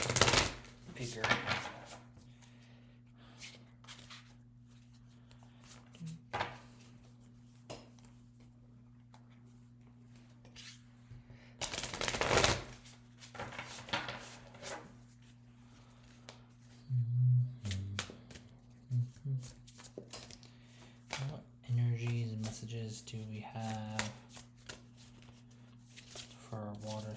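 An oversized tarot deck being shuffled in uneven bursts of riffling and card slaps, close by, with a person talking intermittently over it.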